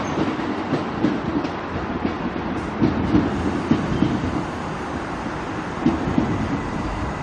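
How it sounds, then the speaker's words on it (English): Trains rumble steadily through busy Bowen Hills railway station in Brisbane, with a continuous rolling roar and occasional faint clacks of wheels over rail joints. "Another quick look at this very busy Bowen Hills railway station with a few trains coming and going."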